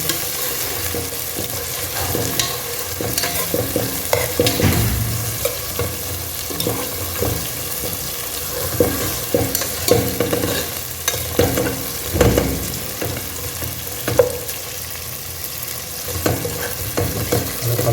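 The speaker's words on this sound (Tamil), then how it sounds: "கத்திரிக்காய் ஒரு 5 நிமிஷம் அப்படியே எண்ணெயில் கொஞ்சம் வதங்கட்டும்" Eggplant pieces fry in oil in a pan alongside fish curry from Hogenakkal, giving a steady close sizzle broken by repeated scraping and clattering stirs throughout, with no talking.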